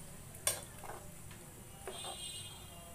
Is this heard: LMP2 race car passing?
no